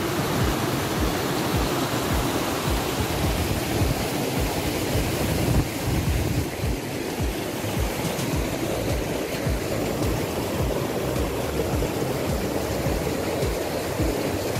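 Continuous rushing of water flowing in a stream in Mae Wong National Park, Thailand, a dense, even wash of sound with no voices.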